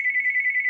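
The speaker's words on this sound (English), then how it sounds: "stupid phone's ringing, and I don't want to answer it" A phone ringtone rings as a steady warbling electronic tone that pulses rapidly, loud and close, with no voices over it.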